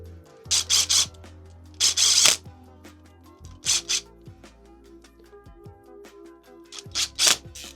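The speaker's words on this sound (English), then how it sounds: "Let's go ahead and grab our drill." A power drill runs on the clutch of a CFMoto Ibex 450 motorcycle in short bursts of whirring, close and loud, separated by quiet pauses with small mechanical clicks and rubbing.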